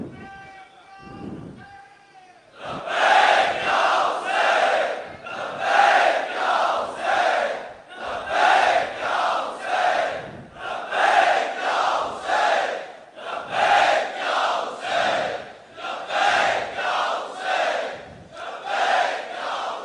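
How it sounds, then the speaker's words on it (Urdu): At a Muharram majlis a large crowd shouts slogans in loud, rhythmic call-and-response bursts, each chant answered by a massed roar, after a brief solo voice opening. "مولانا کو یہ والے آواز والے نعرے تو چاہیے نہیں ہوتے"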